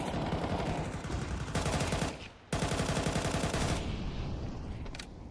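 Rapid automatic rifle fire in a Counter-Strike professional match, dense loud bursts with a brief gap between them, heard alone without talk.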